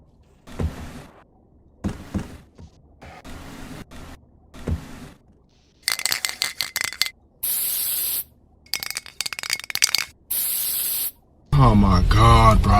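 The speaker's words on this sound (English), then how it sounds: "Dave, Jack, use the spray." A spray hisses in bursts in a Garry's Mod movie, several loud, sharp blasts of noise in the second half, the last one long and harsh, following quieter stretches of talk.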